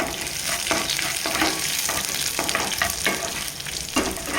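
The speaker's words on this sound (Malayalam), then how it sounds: "ചെറിയൊരു ബ്രൗൺ നിറമാകുന്ന വരെ നമുക്കൊന്ന് മൂപ്പിച്ചെടുക്കാം" Chillies fry in a pan with a steady close sizzle, and a spatula stirs them in repeated scraping strokes about every half second. No one speaks.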